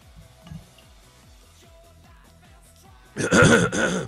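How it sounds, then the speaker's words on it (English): A loud, rough throat clearing bursts out near the end after a quiet stretch with a faint background hum. "Let me clear my throat."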